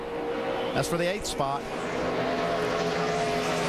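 NASCAR stock cars racing in the 2009 Pennsylvania 500, one car passing another, their engines droning steadily in the background beneath a commentator's voice.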